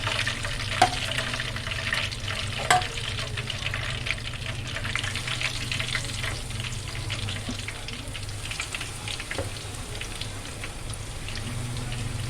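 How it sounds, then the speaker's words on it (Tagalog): Breaded cordon bleu pieces sizzle steadily in hot cooking oil, a constant bubbling hiss with a few sharp pops and clinks of a utensil. "prituhin na natin yung ating naiwan na 3 piraso"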